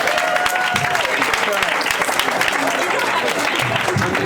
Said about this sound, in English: So please give a nice round of applause for Sarah Fontaine.